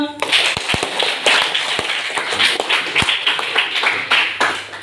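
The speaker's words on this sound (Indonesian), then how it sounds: "terima kasih anak-anak, tepuk tangan buat semuanya" Children clap together in a school classroom at the end of a lesson, a dense patter of hand claps with some sharp taps standing out, while voices chatter throughout.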